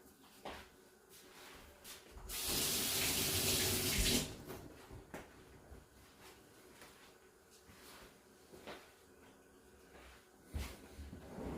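Tap water runs hard over fresh ginger root at a kitchen sink in a close, loud gush lasting about two seconds, followed by quieter handling knocks and light rustles.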